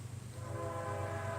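A freight train rolling past a primitive campsite in Ohio, a steady low rumble with a sustained droning horn-like tone building slightly, heard from a short distance with no voices.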